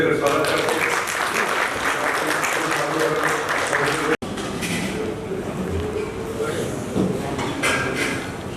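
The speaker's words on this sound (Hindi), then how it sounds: "तालियों से स्वागत करते हैं।" An audience at a tax forum meeting in Haridwar claps steadily for several seconds, dense and fairly loud, with a brief cut midway and voices mixed underneath.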